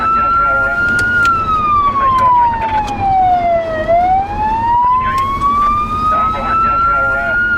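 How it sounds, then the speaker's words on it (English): A police car siren wails loud and close in long rising and falling sweeps as the car races through a high-speed chase at over 110 km/h, with road and engine rumble underneath. "At speeds in excess of 110 kilometres per hour, Keith and another police car give chase"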